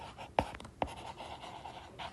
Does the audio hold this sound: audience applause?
no